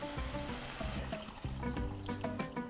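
Water poured into a pan of sautéing ingredients gives a running, splashing pour over a sizzle that fades into bubbling, close and steady.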